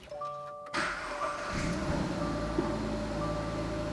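A salvage-rebuilt 2022 Subaru BRZ engine cranks over briefly, catches and settles into a steady, close idle with a low, even rumble that continues to the end.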